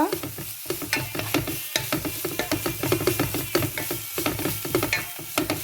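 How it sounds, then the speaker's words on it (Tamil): Beetroot being stirred in a pan, a spoon scraping in quick repeated strokes over a soft, steady sizzle, close and fairly loud with no voices. "ஒருக்கா இப்படி கிளறி விட்டுட்டு திருப்பி மூடி விடணும்."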